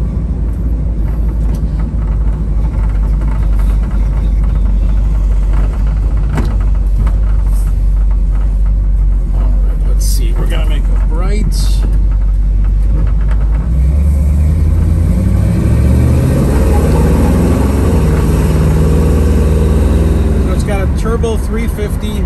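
A 1967 Chevrolet Camaro with an automatic transmission drives along, its engine a steady low rumble heard from inside the car throughout, with someone talking over it and some shifting changes in pitch toward the end.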